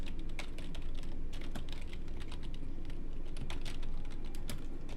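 Rapid, continuous typing on a computer keyboard, with dense clicking keystrokes running evenly throughout at close range and steady moderate level, with no voices.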